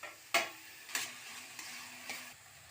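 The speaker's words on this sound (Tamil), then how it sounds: "இப்போ இதை நல்லா கிளறி விட்டுக்கலாம்." A spoon stirs spiced vegetable momo stuffing in a pan with soft sizzling underneath, making four or five distinct scraping strokes at a slow, uneven rhythm, close and fairly quiet.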